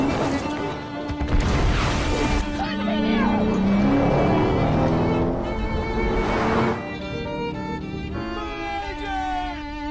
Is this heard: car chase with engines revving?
yes